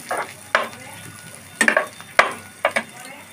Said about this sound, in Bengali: এখন পেঁয়াজ রসুনগুলো আমি ভালোভাবে হাতার সাহায্যে ছিটা করে মিশিয়ে নিব